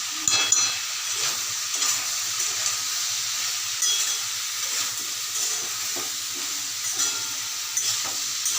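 Spices and vegetable masala sizzle in a pan for mango masala dal while being stirred, giving a steady close hiss with faint scrapes throughout and no talking.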